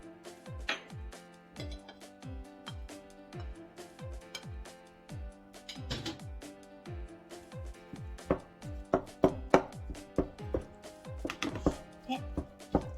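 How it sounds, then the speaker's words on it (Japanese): Boiled potatoes with egg, carrot and bacon are mashed and mixed in a waterless pot, many quick knocking thumps of the utensil against the pot in an uneven, quickening rhythm under quiet background music. "潰して混ぜていきます"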